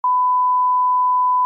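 A single long, steady electronic beep, a censor bleep, holding one pure tone for over a second before a burst of noise cuts in at the end.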